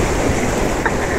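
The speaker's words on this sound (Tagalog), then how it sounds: "Kasi ang lakas ng tubig." Strong, rushing water roars steadily and loudly at a lakeside in Aspire Park, Qatar, mixed with wind noise on the microphone, with no talk.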